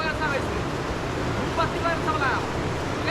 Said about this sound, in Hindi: अलकनंदा नदी ये रही सामने बहती हुई, इनकी कलकल आवाज़ आप सुन ही सकते हैं।